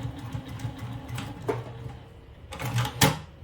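A sewing machine stitches and back-stitches fabric for a shoulder bag, a close mechanical hum with short bursts and clicks as the stitching pauses and reverses.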